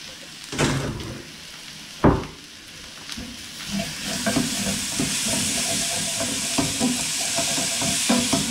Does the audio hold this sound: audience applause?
no